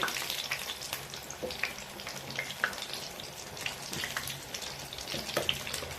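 Paneer pakoras fry in medium-hot oil, giving a continuous bubbling sizzle with irregular sharp spits and crackles up close, without any talking.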